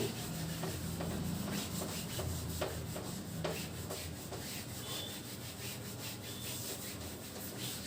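A board eraser rubbing out writing on a classroom board, a continuous close scrubbing friction with repeated back-and-forth strokes and small knocks, heard alone without talk.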